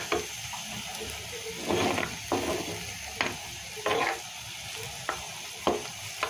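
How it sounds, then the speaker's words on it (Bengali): Chopped fresh garden greens, amaranth, red spinach and Malabar spinach, stir-fried in a pan: a soft steady sizzle broken by several scraping stirs spaced a second or so apart, close and moderately loud, with no talking. "এই যে শাকগুলোকে কেটে দিয়ে এই যে ভাজি করলাম"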